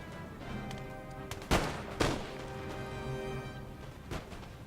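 Musket volley fire from ranked line infantry in Empire: Total War, a few sharp cracking volleys, two close and loud in quick succession and a fainter one later, over a steady battlefield din.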